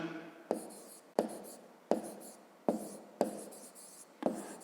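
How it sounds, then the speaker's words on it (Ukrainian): Pen strokes on notebook paper, close and crisp, heard as six short scratching bursts in a steady rhythm roughly every seven-tenths of a second, with quiet between them. "Пишемо в дужках кілометрів квадратних."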